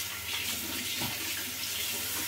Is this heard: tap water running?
yes